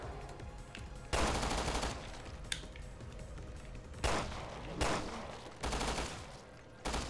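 Rapid automatic gunfire from a weapon in the video game Resident Evil Revelations 2, played in Raid Mode, comes in several loud bursts separated by short gaps, with quieter game sounds between them.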